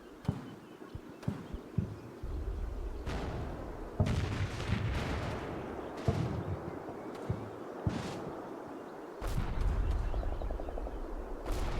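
A World War II town battle in a war video game, with sporadic machine gun bursts and booming artillery shelling. Sharp cracks and low heavy thuds are spaced irregularly over a constant rumble, at moderate distance with no talk.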